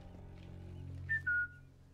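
Two short, sharp whistles in Sniper Elite 5, a quick rising pair of high tones over a low steady hum, close and clear with no speech.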